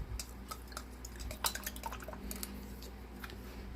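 A Christmas nativity snow globe being stirred, with small clinking taps and light scraping in short irregular bursts over a low steady hum, faint and close.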